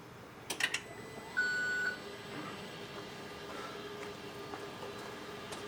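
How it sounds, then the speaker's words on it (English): A Speed UTV El Jefe side-by-side gives a few quick electronic beeps followed by a longer steady warning tone, faint against a quiet background hum with no talking. "Beeping at me already."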